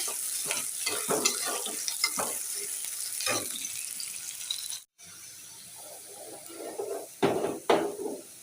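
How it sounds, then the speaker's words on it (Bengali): A vegetable side dish frying in oil in a pan, with close, irregular clatters of a spatula over a soft sizzle and a brief dropout midway, then a burst of louder scraping near the end; no speech. "ভেজে নিচ্ছি"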